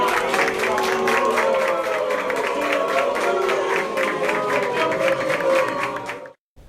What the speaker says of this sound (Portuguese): E deixou o local sob vaias.